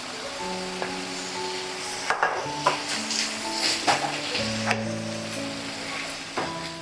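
Red peppers sauté in a pan for a beef, mushroom and corn burrito filling, giving a soft sizzle beneath frequent clinks and scrapes of a utensil stirring against the pan, close by and without talk.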